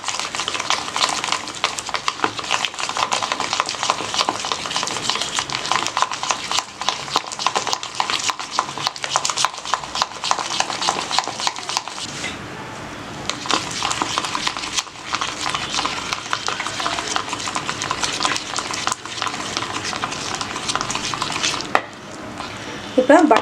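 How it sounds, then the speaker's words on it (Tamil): Butter and honey beaten together in a bowl, with a continuous rapid scraping and whisking rhythm, close and steady, that pauses briefly midway and then resumes. "அது வரைக்கும் வந்து நல்லா நம்ம பீட் பண்ணனும்"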